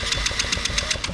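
An X18 pocket bike engine runs without the choke, a close, steady rapid putter of regular pulsing beats over a low rumble.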